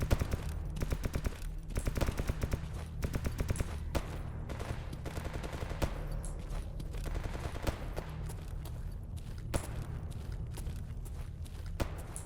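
Gunfire in the video game Escape From Pripyat, set around army warehouses: rapid bursts of automatic shots crackle over a steady low rumble, mixed with footsteps, at moderate volume with no voices.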